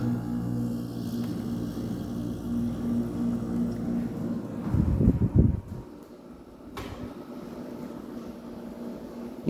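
A Kenmore window air conditioner with a Matsushita compressor starts up: a steady low mechanical hum with a brief louder rumble partway through, then settling into a quieter, even drone.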